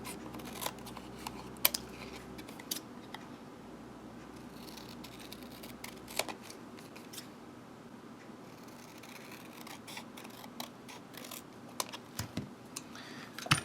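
Scissors trim and round the edges of Mary-El tarot cards, a string of small crisp snips and clicks with light rustling of card stock, close up and quiet, no talking.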